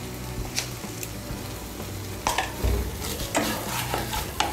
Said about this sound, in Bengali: নুন চিনিটা ভালো করে মিশিয়ে নেব।